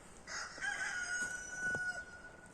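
A young rooster, kept with three hens in a donkey paddock, gives one clear cock-a-doodle-doo crow lasting about two seconds, fairly near, with no talking.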